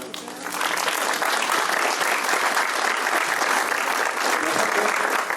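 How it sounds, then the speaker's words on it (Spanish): An audience gives Amelia a strong round of applause at a talk on the Cusco coat of arms, the clapping thick and sustained at an even level from start to finish. "Un fuerte aplauso a Amelia, por favor."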